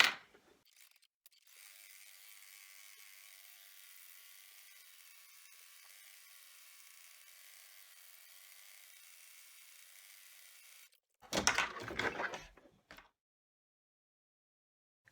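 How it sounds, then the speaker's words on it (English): A machine embroidery unit sews the final in-the-hoop stitching around a fabric money coin pouch, leaving a turning hole open; a steady, faint mechanical hum runs unbroken for about ten seconds, followed by a short louder burst of handling noise. "we will return it to the machine, and we will do the last stitching that will leave the turning hole open"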